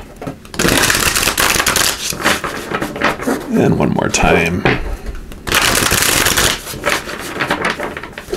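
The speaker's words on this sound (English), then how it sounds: "give these a quick shuffle" Rapid papery riffling of tarot cards being shuffled, close and fairly loud, in a few bursts, with a person talking briefly over it.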